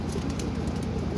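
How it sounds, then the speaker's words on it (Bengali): Pigeons cooing in a loft of Jiragola-type birds: a low, throaty, rolling coo repeated in quick pulses, close and steady against a soft background hum, with no talk. "এই যে একটা কবুতর আছে মাশাআল্লাহ, জিরাগোলা টাইপের মাশাআল্লাহ"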